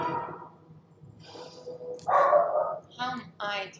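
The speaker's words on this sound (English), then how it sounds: "Just because he's barking doesn't mean that you bark." A dog lets out a few sharp barks close by, spaced across the last couple of seconds, with voices murmuring faintly in the background.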